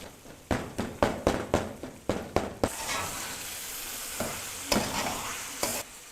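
Tomatoes frying in oil with chicken in a pan, starting with a steady series of loud, rhythmic spatula scrapes and taps, then a broad continuous sizzle broken by a few more stirring knocks, close and without talk.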